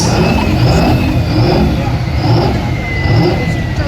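A pulling truck with a Detroit diesel, Allison automatic and an original Canadian cab roars at a truck and tractor pull, a loud, sustained engine drone with rhythmic pulsing surges and a high whine on top.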